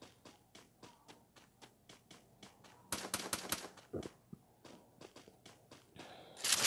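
Gunfire in the Free Fire mobile battle royale game: a long run of evenly spaced single shots, then a dense, louder burst of rapid automatic fire and a few more bursts near the end, heard without talk.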